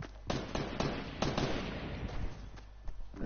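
Gunfire in the battle royale game Fortnite: a run of sharp, loud shots at irregular intervals, with a few spaced single cracks over a steady game background.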